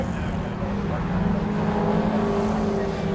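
Several BMW Compact Cup race cars run in a pack through Coppice Corner at Donington Park, a steady blended engine roar at moderate distance, continuous and fairly loud throughout.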